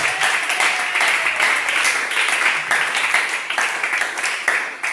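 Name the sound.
congregation applauding for God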